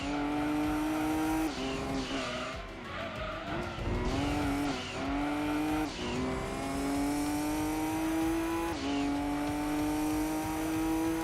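Race car engines in a Gran Turismo 2 endurance race, a loud sustained whine that rises and drops through repeated gear shifts, with brief tire squeal and no talk.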